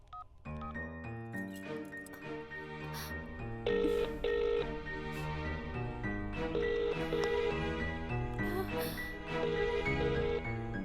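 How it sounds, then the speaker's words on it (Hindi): A phone rings unanswered in a Bhojpuri film scene, repeated ringback tones in steady pulses over background music, fairly quiet throughout. "रिंग तो हो रही है पर कोई फोन नहीं उठा रहा है"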